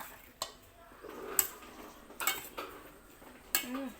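Bitter eucalyptus mushroom salad with toasted rice powder and lime tossed in a bowl, with sharp clinks of a utensil against the dish at irregular intervals and soft mixing between, quiet and close.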